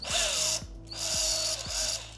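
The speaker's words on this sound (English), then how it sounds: "I'm just going very slowly just to get like a little pilot hole in here" A drill slowly bores a small pilot hole into the swingarm of a Triumph Tiger Sport 660 motorcycle, giving a steady close whine with rhythmic clicking as the bit bites, easing off briefly partway through.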